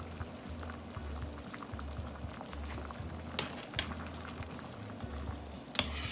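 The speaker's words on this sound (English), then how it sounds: "And you add a little bit of fish sauce because they are already" Beef panang curry simmering in a pot, with fish sauce being added, bubbling steadily and close by, with a low rhythmic churning and a few sharp clinks from a utensil.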